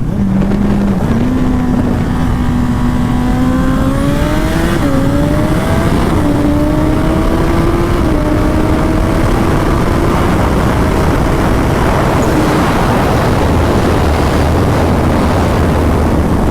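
A turbocharged Suzuki Hayabusa motorcycle pulls hard in first gear, its engine note rising steadily with brief dips at shifts, loud and close with heavy wind rush over the microphone.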